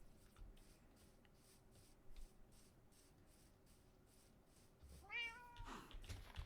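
A quiet cat in the game Minecraft gives a single short meow near the end, after faint ambient game noise and soft rustling.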